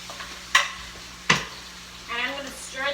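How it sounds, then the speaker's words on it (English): Tomatoes stirred into broccoli rabe in a frying pan give a faint sizzle, with two sharp scraping clicks of a utensil against the pan and soft stirring noises near the end. "I'm going to stir them in with the broccoli rabe"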